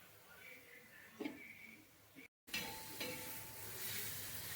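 Taklyachi bhaji, a leafy vegetable dish, stir-fried in a pan with a soft hiss and sizzle and occasional stirring clinks, quiet overall and broken by a brief dropout midway.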